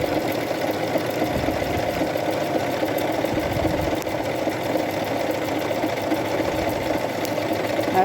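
A sewing machine fitted with a rolled hem foot stitches fabric in a continuous, fast, even whir at close range, with no pauses.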